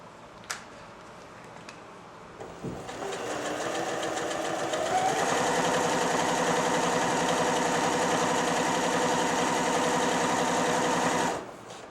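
A Janome 760 sewing machine runs a center-needle straight stitch, starting with a few clicks and then spinning up into a steady, close, rapid mechanical whir that holds for about seven seconds before stopping.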